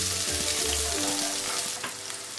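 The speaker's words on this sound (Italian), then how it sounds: "Aggiungiamo lo scalogno e lasciamolo dorare qualche secondo." Shallot frying in extra virgin olive oil, a steady close sizzle and crackle with a few soft low knocks as the pan or spoon shifts, alone without any voice.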